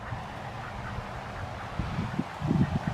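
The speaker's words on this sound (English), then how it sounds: "Hi duckies, where are you going duckies?" Ducks quack in a few short, nasal bursts toward the end, close by, over a soft outdoor background with light wind.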